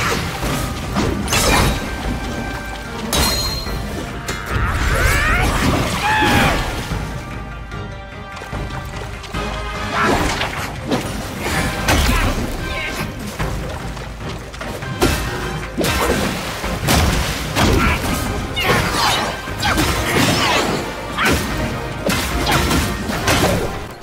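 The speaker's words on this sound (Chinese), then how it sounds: "他留下的这个残影是会爆炸的" Exploding afterimage left by the Great Sage boss in the action game Black Myth: Wukong, a loud burst of crashing, shattering impacts and whooshes amid dense, continuous combat sound and music, with repeated sharp hits throughout.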